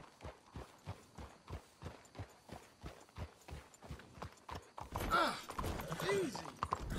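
Horse hooves clip-clop in a steady walking rhythm in Red Dead Redemption II, clear and close for several seconds before louder mixed activity and voices take over near the end.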